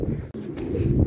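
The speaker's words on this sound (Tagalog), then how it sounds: "grabe mga tol, meron na pala tayong ibon" Birds calling near the course of a fun race, a short low cooing over steady background hum, brief and close.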